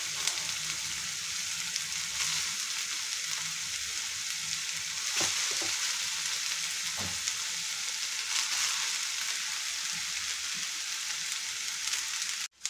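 Rice goes into a frying pan of spiced sweet corn biryani base and is stirred, giving a steady close sizzle and hiss with a few soft scrapes and bumps of the spoon, no voices.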